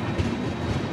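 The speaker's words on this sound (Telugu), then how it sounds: "ప్లాట్ఫామ్ నెంబర్ 2 నుంచి అయితే బయలుదేరిపోయింది మన ట్రైన్." Bagyanagar Express pulling out of platform 2 at a station, a steady broadband rumble of wheels and carriages rolling close by, with faint rhythmic clatter and no voices.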